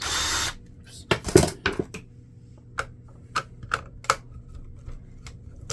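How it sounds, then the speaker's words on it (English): A screwdriver removing the small print head screws inside an Epson WorkForce WF-3520 printer, heard as a brief whir followed by scattered sharp clicks and light metallic ticks at irregular intervals, close and quiet between sounds. "there's 3 screws that hold the print head. If we remove those,"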